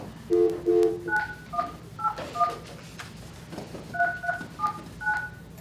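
Touch-tone telephone keypad dialing back into a board meeting call, a run of about a dozen short DTMF beeps in quick clusters, clear and close over a low hum, without speech.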